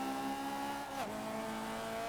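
The 2.6-liter turbocharged four-cylinder engine of a Starion in a racing video game drones steadily, its pitch dipping sharply once midway as if shifting gear, then settling into a level hum with no voices.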